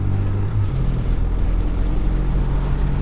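A 2025 BMW 1300 RT motorcycle underway, its engine a steady low drone under heavy wind rush, with a brief change in engine note early on as a gear is shifted.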